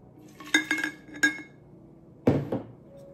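Metal utensil clinks against a pot while liquid is stirred, a few sharp rattling knocks early on, then a pause and a heavier scraping clatter, close by with no voices.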